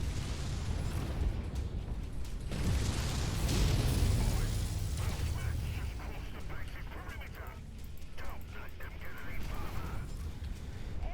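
Missile explosions in the video game MechWarrior 5: Mercenaries, a heavy rumbling blast swelling in the first seconds and then trailing off into scattered booms and pops, with a voice talking over the action.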